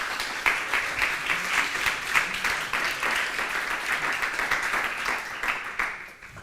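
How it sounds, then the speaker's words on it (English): An audience at a talk gives warm applause, a steady, moderately loud patter of many hands clapping that continues for several seconds before tapering off at the end. "And a warm applause, please."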